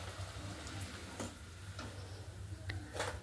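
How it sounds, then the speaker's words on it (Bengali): Luchi flatbread frying in hot oil, a steady soft sizzle with a low bubbling hum and occasional light clicks and stirs, fairly faint and continuous with no talk. "তারপর আমরা দেখছি লুচি ভাজা হচ্ছে"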